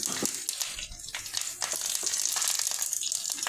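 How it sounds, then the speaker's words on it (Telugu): Curry leaves and tempering seeds frying in hot oil in a pan, giving a steady, close crackling sizzle with brief spitting bursts throughout. "కరివేపాకు వేసుకొని కొద్దిసేపు అటు ఇటు తిప్పుకొని ఆయిల్లో కొద్దిగా కరివేపాకు అవన్నీ వేగాలండి"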